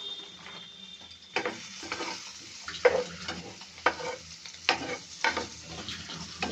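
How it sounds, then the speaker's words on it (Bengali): Cumin stirred in a frying pan, with a steady low sizzle and a series of sharp scraping spoon strokes at an uneven rhythm, close up, with no speech. "এটা জিরে, নেড়ে নিল।"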